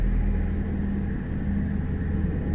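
A car engine tuned to MHD Stage 2+ idles nearby around 800 rpm after a cold start, a low, steady hum with a faint uneven pulse and no talking.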